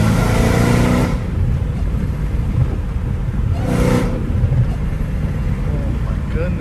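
A catless Dodge Hellcat Redeye pulls hard in fourth gear in sport mode, heard from inside the car as a loud, deep exhaust roar with a brief surge and lift in the middle.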